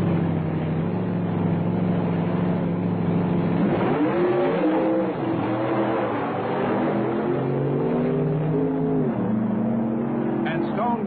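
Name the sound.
drag race cars racing, red coupe versus Stone, Woods and Cook car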